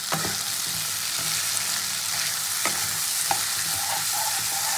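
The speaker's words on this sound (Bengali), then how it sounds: "সব মশলা কিন্তু এবার খুব ভালো করে কষিয়ে নিতে হবে" Spice paste with yogurt and a pinch of sugar being stir-fried in a pan for rui fish curry with capsicum, a continuous close sizzle with occasional scraping strokes of a spoon, no voices.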